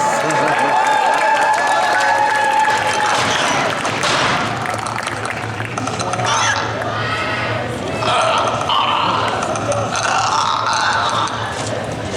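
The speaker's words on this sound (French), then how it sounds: "Merci de faire un tonnerre d'applaudissements au Clacos." An audience at the Geek Legends costume contest in Lons applauds a cosplay group dressed as characters from The Last of Us, with a steady, dense wash of clapping and crowd noise that lasts throughout.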